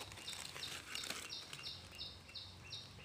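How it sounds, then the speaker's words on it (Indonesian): A female red-capped bird in a teak plantation gives a series of short, evenly spaced high chirps, faint against a rustling outdoor background. "Masih bunyi-bunyi ya burung itu"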